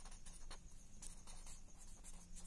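Chalk or marker scratching steadily across a board while a geometry problem on square area is worked out, continuous faint rubbing strokes over a low room hum, with no talking.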